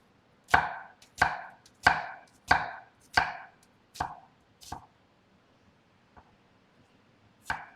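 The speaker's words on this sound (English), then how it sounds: "it's up to you how big you want to chop your onion" A knife chops onion on a cutting board in about eight firm, evenly spaced strokes that taper off, then a lone final chop after a short pause; close and crisp, with no voices.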